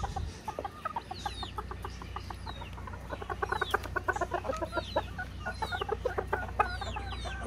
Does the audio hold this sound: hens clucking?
yes